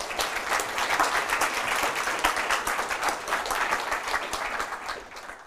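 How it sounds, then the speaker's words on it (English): Audience applause for a presenter at a sec4dev 2019 API security conference talk, a dense, steady wash of many hands clapping for several seconds before tapering slightly at the end, with no talk over it. "Give him a warm applause."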